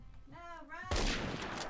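A sniper rifle in Phantom Forces fires one loud, sharp shot after a moment of talking, and the blast rings out with a noisy tail.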